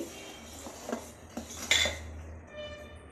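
A metal spoon scrapes and clinks against a steel pot of syrup for coconut sweets in a few irregular strokes, close by and fairly quiet.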